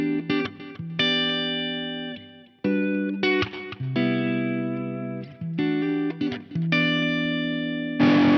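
Clean fingerstyle electric guitar through a JTM45 amp model with the drive off, playing plucked notes and chords in a steady phrase, close and loud with no talking.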